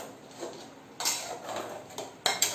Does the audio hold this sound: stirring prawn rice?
yes